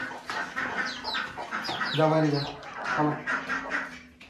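Native country chickens cluck and squawk nearby in a steady, chattering flock on a village farm while people talk over them.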